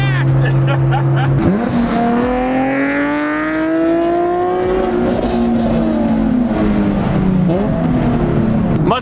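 A sports car, a C7 Corvette or a Nissan 370Z, revs loud and close through its exhaust, the engine pitch climbing and falling in long sweeps, with people shouting over it.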